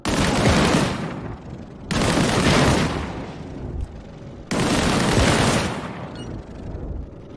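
Gunfire aimed at a barrel in the video game Disintegration: three loud, heavy blasts, each a dense roaring burst that rolls off into a fading rumble, with short gaps between them.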